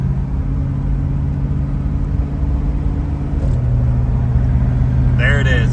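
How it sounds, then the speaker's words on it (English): A 1971 Ford Torino cruising with a Gear Vendors overdrive drops its engine drone to a lower, steady pitch midway as the unit shifts, under continuous road rumble and cabin noise. "at 47 miles an hour, the gear vendors will shift into overdrive automatically"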